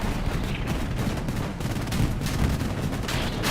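Massed machine-gun fire and distant explosions roar on a war video game battlefield, an unbroken, heavy wall of overlapping rapid bursts and booms, loud throughout, with no speech.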